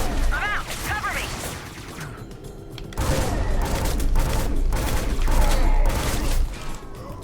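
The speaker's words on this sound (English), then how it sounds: "we're shooting a guy" Bursts of gunfire in the Scourge Outbreak video game, loud and repeated, with booming impacts and mechanical clatter, under a dense, busy mix of game sounds.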